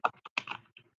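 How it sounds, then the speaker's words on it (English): A deck of very thick tarot-style cards being shuffled gives a short burst of dry, woody clicks and riffles, several quick taps close by, then quiet. "This deck is very hard to shuffle. The cards are very thick."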